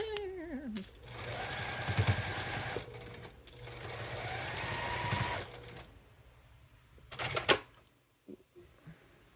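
A sewing machine stitches quilt fabric in two long, fast mechanical bursts with brief pauses, then stops after a final short run, leaving clicks and rustling; loud and close.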